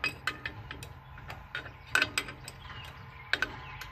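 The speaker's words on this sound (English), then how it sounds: "Turn it with the wrench to get it started." A wrench turns a bolt on a D&D safety hub, giving a series of sharp mechanical ratcheting clicks in short bursts, fairly close and moderately loud with no talking.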